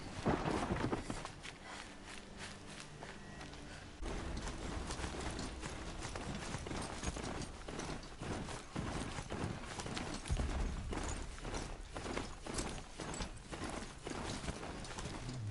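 Rhythmic hoofbeats of a horse galloping in a steady run in the video game Horizon Zero Dawn, fairly close, with a low rumbling background and no talking.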